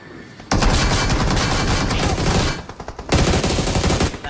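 Automatic gunfire from a BGMI battle-royale match, loud, dense bursts of rapid shots that fill most of the clip, pausing briefly before a second volley resumes near the end.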